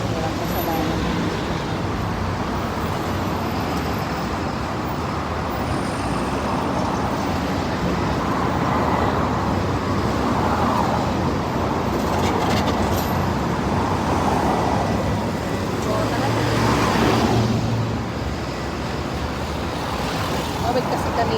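Busy street traffic with many vehicles passing makes a continuous broadband roadside rumble, steady and fairly loud, swelling slightly as heavier vehicles go by.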